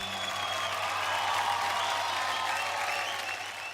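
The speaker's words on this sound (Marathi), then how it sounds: "पण एकदा जोरदार टाळ्या होऊन जाऊ द्या श्वेतासाठी" Steady, dense applause for Shweta's lavani dance performance on a Marathi TV stage show, a continuous even roar of many clapping hands with no talk over it.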